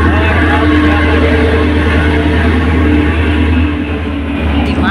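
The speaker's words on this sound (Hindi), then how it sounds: "देख सकते हैं भाई लोग ट्रेन अभी जा रहे हैं" A train rumbles past continuously, loud and close, with a steady low roar and clattering that eases slightly toward the end.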